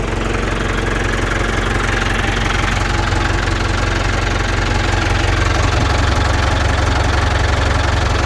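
A Ford 6610 tractor with triple-pump hydraulics and FB gearbox, its engine worn loose with age, idles steadily nearby with a continuous low diesel knock and rumble, no talk over it.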